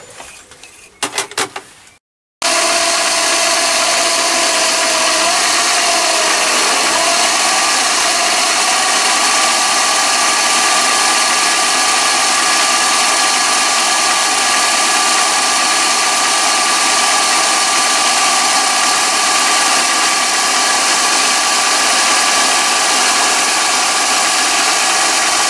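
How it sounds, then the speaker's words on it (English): A Chinese mini lathe turning a half-inch diameter on a spindle handle, its motor running in a loud, steady whine with cutting noise throughout after a brief start-up. "I'm going to turn the diameter for the handle to fit on, which is half an inch in diameter"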